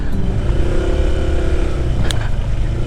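A Honda ADV 160 scooter is ridden on a mountain road, its engine droning loud and close throughout with heavy wind buffeting and a brief sharp clatter near the end.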